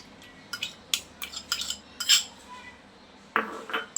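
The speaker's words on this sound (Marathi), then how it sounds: "छान असं आपल्याला दही फेटून घ्यायचं आहे" A utensil clinks and scrapes rapidly against a large bowl in short bursts, whisking curd, with brief pauses between strokes.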